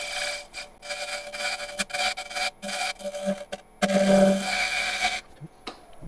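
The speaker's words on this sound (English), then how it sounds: "smooth that out with our inside bowl scraper" Inside bowl scraper taking light passes in a wooden bowl, heard as close, uneven bursts of rasping and rubbing that start and stop irregularly, with one longer, louder stroke near the end.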